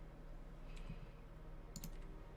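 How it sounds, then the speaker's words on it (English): Two short bursts of keyboard typing, a couple of quick faint clicks each, sit about a second apart over low steady room hum. "Typing."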